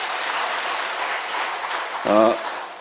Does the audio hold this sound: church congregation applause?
yes